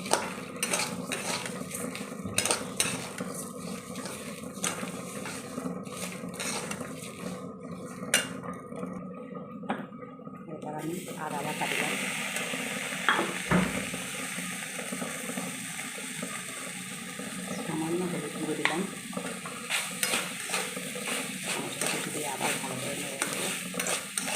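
Cashews and raisins fry in a pan for Gobindobhog rice pulao, a quiet steady sizzle under repeated scraping and stirring of a utensil against the pan, with occasional metallic clinks throughout.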